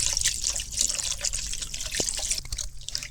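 Water is poured over fresh cottage cheese held in a cotton cloth during homemade cream preparation, producing close splashing and trickling with scattered drips.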